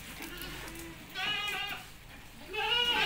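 Etawah crossbreed goats bleat at a stock pen, with two or three loud wavering calls close by over a quiet background.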